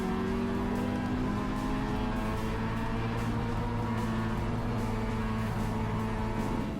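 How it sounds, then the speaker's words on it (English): Over 2 litre Improved Production race cars, among them Commodores and a BMW, race in a New South Wales class event, their engines a steady, continuous drone with layered tones throughout. "Trev Spiteri blasts away in race 2 of the over 2 litre Improved Production New South Wales class"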